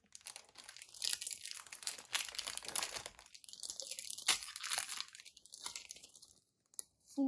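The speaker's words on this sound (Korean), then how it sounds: "두 번째 팩 개봉" A Pokémon card booster pack being torn open and handled, with close crinkling and tearing of foil wrapper in several bursts and short pauses in between.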